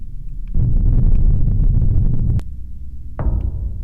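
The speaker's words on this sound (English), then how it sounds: "That's the new bump noise, we also recorded that." A spaceship in the space game Fortitude bumping into something, a low rumbling thud lasting about two seconds, then a sharp crack and a second softer bump.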